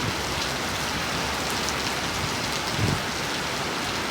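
Steady rain pours outdoors on a rainy day, a dense continuous hiss of drops striking surfaces, close and fairly loud, with a brief heavier patch near the end.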